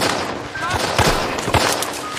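Battle gunfire from a war film about the first American landing in Europe, rapid crackling shots and bursts over dense noise with a voice speaking through it.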